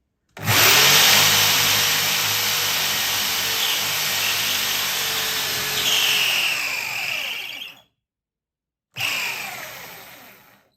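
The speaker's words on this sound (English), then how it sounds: "As you drill, withdraw the bit slightly from time to time so that any wood chips can come out" A power drill boring a pocket hole in wood through a drill guide, a loud, close whine held for several seconds with slight shifts in pitch, stopping briefly, then starting again for a short final burst.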